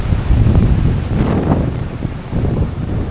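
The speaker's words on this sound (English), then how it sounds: "It's proper windy." Strong mountain wind buffeting a microphone during a cold outdoor run, a loud, continuous low rumble with gusty surges and no voices.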